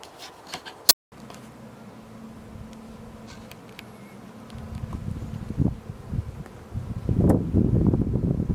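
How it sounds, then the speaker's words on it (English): Honey bee colonies buzz outdoors beside hives about to be moved to permanent homes. There is a steady low hum with a sharp knock near the start, and the buzzing grows louder and busier toward the end. "I'm ready to move my new bee colonies into their permanent homes"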